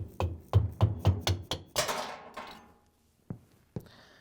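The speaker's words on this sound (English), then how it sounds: "we can tap on the putty knife with a hammer to get the clutch clip to come off" Six quick metallic hammer taps on a putty knife in a steady rhythm, prying a clutch clip off a GE washer, then a rattling clatter and two more isolated taps, close by.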